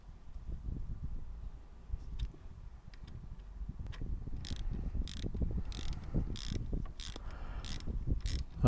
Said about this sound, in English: tightening them up